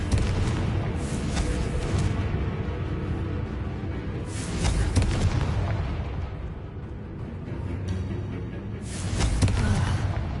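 Confringo explosion spells in a video game, a few heavy booming blasts with rumbling tails spaced several seconds apart over a noisy background.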